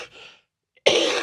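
Person coughing on a podcast, a short, soft cough followed by a brief pause and then a sharper, louder burst, close to the microphone.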